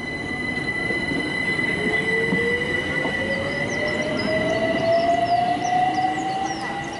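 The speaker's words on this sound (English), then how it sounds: "That train continues on to Stratford" A train passes through a London station, wheels screeching in a long rising squeal over a steady mechanical rumble, loud and close for the whole stretch with no talk.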